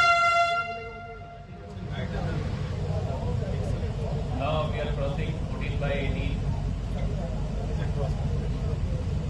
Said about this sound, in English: the first time the train has moved below the Hooghly River